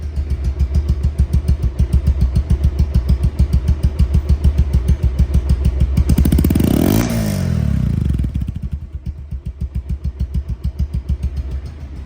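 A Bajaj Pulsar motorcycle idles with a steady, loud, thumping chug up close, briefly revs up in the middle, then drops back to its even idle.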